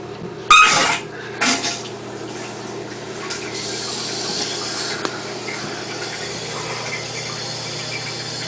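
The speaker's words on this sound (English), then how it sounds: "now let's turn the water on and see if I have any leaks" After a couple of clunks, water begins running steadily from a tap, a soft continuous rush that holds on without pause.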